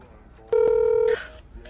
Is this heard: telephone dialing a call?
yes